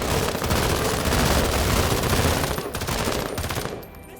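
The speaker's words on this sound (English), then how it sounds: "I am going to go ahead and take 1 step over and shoot these guys" Sustained rapid gunfire from shooting enemies in the game Menace, a loud, dense automatic rattle lasting several seconds before cutting away to quieter background.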